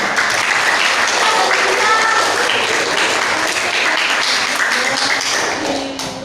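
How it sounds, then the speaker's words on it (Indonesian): Steady applause from a group of students and teachers at a school project event, hands clapping densely and evenly at moderate loudness before tapering off at the end. "Tepuk tangannya cukuplah"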